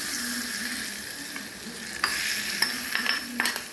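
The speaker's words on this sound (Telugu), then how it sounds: "పోపు చేసుకోవాలి." Curry leaves, asafoetida and tempering spices sizzle and crackle in hot oil for a cucumber pachadi, with a steady close frying hiss and a few sharper stirring scrapes near the end.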